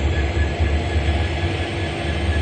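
Jan Shatabdi Express train at platform 6 of Guwahati railway station, a steady loud low rumble of rolling cars with a faint high whine, continuous and close, with no speech.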